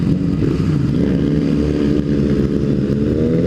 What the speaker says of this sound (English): That guy's on the left has like a straight pipe, just open.